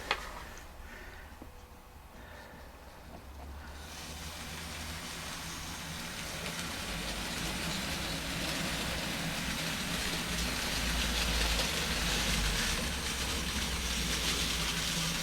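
A Dapol N gauge BR Standard 9F 2-10-0 model locomotive runs with a heavy seven-vehicle train behind it, making a continuous close whirring rumble that grows louder and stays steady, with no talk.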